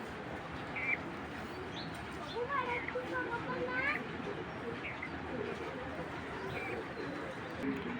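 Imported racing pigeons coo softly in a loft, with low, murmuring calls and a few brighter chirps over a busy background where voices and children can be heard.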